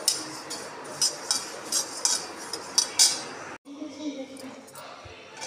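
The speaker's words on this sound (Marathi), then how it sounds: "बारीक गॅसवरती भाजून घ्यायचं" A spoon scrapes and clinks against a pan as ingredients roast on a low gas flame, with steady rhythmic stirring close up that cuts off abruptly partway, followed by softer background kitchen noise.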